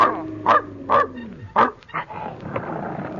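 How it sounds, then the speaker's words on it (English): A dog belonging to an elevator operator barks in a 1941 old-time radio drama, a few loud sharp barks with yips and whimpers in close succession. "Where's that dog?"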